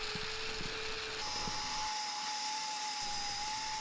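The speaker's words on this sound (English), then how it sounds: "I took it in the back garden with a knotted wire wheel on an angle grinder and cleaned it up the absolute best I could" An angle grinder fitted with a knotted wire wheel stripping rust and underseal from Ford Escort RS Cosworth parts outdoors in a garden, a loud continuous high whine with a shifting pitch and a gritty rasp, no talking.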